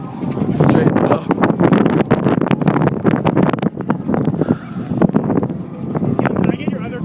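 Strong gusting wind batters the microphone in a desert sandstorm at Burning Man while riding a bike, a loud continuous roar with voices talking throughout.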